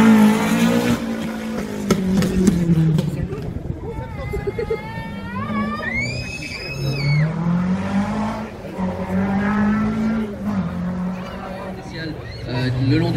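A rally car from the Rallye du Chablais 2023, driven by a 77-year-old Greek driver, arrives into the Balma area beside the Rhône, its engine revving up and shifting while a commentator talks over it throughout.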